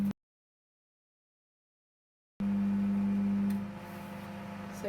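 An LG charcoal microwave oven running while making ghee from homemade butter: after a stretch of silence, a steady low electrical hum kicks in with faint fan noise, staying constant and fairly close before easing slightly toward the end.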